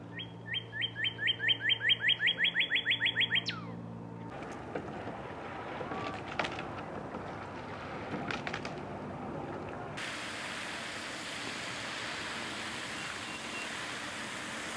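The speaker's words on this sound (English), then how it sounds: "you can't see him, but at least you can hear him. That is a male cardinal." A male cardinal sings a rapid series of about a dozen clear, slurred whistles in the woods, close and prominent for the first few seconds, then gives way to quiet outdoor rustling and a steady wash of background noise.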